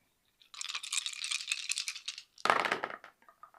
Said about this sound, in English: Need to roll some dice.